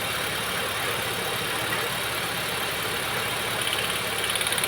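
A Maruti Wagon R engine with a pickup and mileage problem runs steadily near the silencer, a dense, loud mid-pitched exhaust drone that holds even throughout, with faint pulsing toward the end and no voices.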